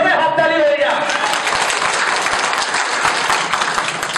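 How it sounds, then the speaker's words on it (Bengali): Audience at a lottery sellers' seminar breaks into loud, sustained applause, dense clapping holding steady throughout, with a voice briefly heard at the start. "সুমনের জন্য একজন জোরে হাততালি হয়ে যায়।"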